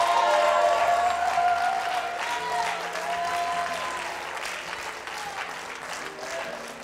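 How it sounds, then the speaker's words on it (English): A church congregation claps its hands in worship, a dense wash of clapping with crowd voices, organ-like sustained tones and singing threaded through it, fading slightly over time. "Well, clap your hands, all you people."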